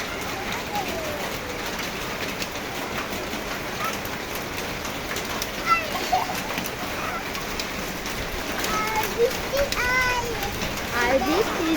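Hail and rain fall in a steady, dense patter during an afternoon storm in the city, with occasional birds and voices talking over it.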